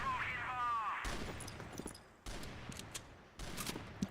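Quick HK417 rifle shots in the CrossFire shooter game at a tournament match, faint bursts of rapid tapping fire in short clusters, mixed with game effects and a caster talking over it.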